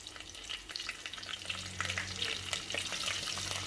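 Cumin seeds and curry leaves crackle and sizzle in hot oil for a country chicken curry, a steady close frying hiss with dense popping and no voices.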